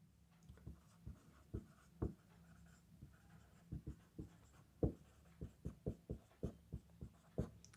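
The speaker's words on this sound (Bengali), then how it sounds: "আর অ্যামাটাল কি, এখানে লিখছি" A pen or chalk taps and scratches in short, irregular strokes on a board or paper during a chemistry lesson, close and fairly quiet, with no talking over it.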